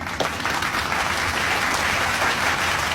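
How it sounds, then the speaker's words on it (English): An audience breaks into applause, a dense wash of clapping that holds steady and fairly loud for a few seconds. "Let's get a round of applause for that."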